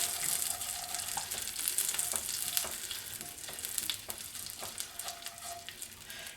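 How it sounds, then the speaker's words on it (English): Pineapple jerk sauce bubbles and sizzles in a pot while a spoon stirs it, giving a steady bright frying hiss punctuated by soft scraping strokes against the pan. "So we'll stir that in a little bit."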